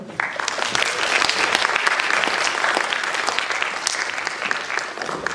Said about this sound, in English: So a huge round of applause for everyone for being here.